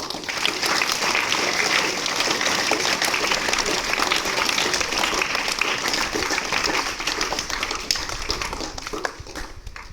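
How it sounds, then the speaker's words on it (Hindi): Sustained applause from an audience, dense and steady for several seconds, with a few faint voices mixed in. "तो एक बार इनके लिए तालियां बजाओ"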